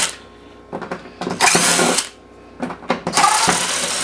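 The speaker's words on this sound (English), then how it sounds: "Don't recommend going for this fast with the drill." A power drill backs screws out of a Neato robot vacuum, giving short whirring bursts with ratcheting clicks in between, loud and close, several separate runs separated by pauses.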